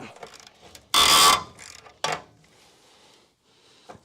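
A wrench turns a rusted bolt as the threads clear, giving one loud grinding, ratcheting squeal, then a shorter rasp and fainter creaks, all close by.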